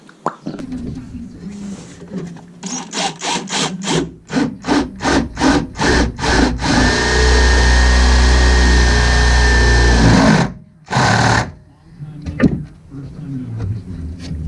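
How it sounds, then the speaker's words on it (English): A power drill whirs in short bursts, then grinds continuously through thick plastic for a few seconds before stopping, close and loud, with brief talk, during a bass boat livewell build. "we'll drill a hole out"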